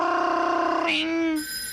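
A voice imitates a ringing telephone with a sustained, warbling tonal 'ring' that bends in pitch before breaking off, delivered close and clear during a casual podcast conversation.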